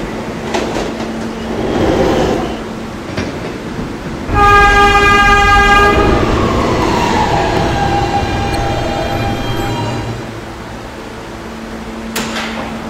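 A New York City subway R160B N train rumbles along with a loud, close motor and track roar. A sustained tonal whine rises and then fades over several seconds, and rhythmic clatter runs underneath.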